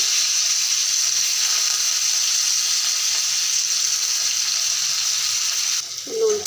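Potatoes frying in hot oil in a wok with dried chilli and panch phoron, giving a loud, steady, even sizzle that stops with a brief clatter near the end.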